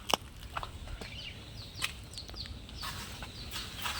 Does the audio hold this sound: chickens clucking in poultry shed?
yes